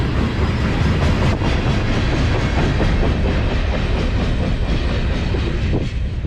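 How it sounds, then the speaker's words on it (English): A freight train rolls past at close range near the Hyde Park footbridge, a loud continuous rumble with rhythmic clickety-clack of wheels over rail joints as the cars go by, ending with a caboose. "Here's the end right here, and I think there may be a caboose on there"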